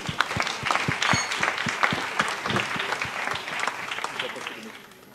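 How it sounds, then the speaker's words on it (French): A small group applauds at a press conference for the Grand Raid race, with clear individual claps close by at first, then thinning out and fading toward the end. "Vous pouvez les applaudir, s'il vous plaît."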